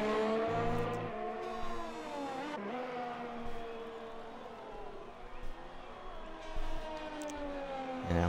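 Alfa Romeo F1 car engine in a racing video game lapping at high revs, a sustained whining drone with pitch sweeps through gear changes, under an overlaid voice.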